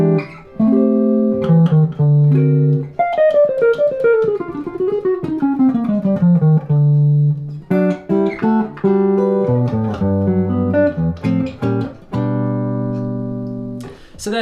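Solo jazz guitar plays a chord melody, harmonising the melody with passing chords, including a descending run of chord steps, sounding close, sustained and unaccompanied.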